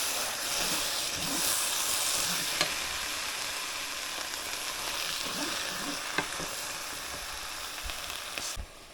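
A pot of meatless chili cooks on the stove with a steady, near hiss and soft bubbling, overlaid by occasional clacks of a spoon stirring, with no speech.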